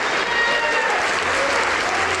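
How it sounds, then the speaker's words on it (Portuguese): A church congregation applauds steadily during a Portuguese-language sermon, a dense, even wash of clapping from many hands that holds at full strength throughout. "Vamos aplaudir ao Senhor Jesus por cada vida que está chegando."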